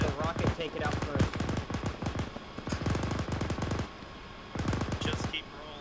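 Bursts of rapid machine gun fire in a military tank combat video game, long rattling volleys with brief pauses between them, loud and close.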